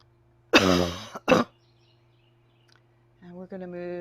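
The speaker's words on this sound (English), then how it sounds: "And the cough." Two forceful coughs close together ring out during breathwork practice, near and loud over a faint steady hum, followed by a person speaking softly.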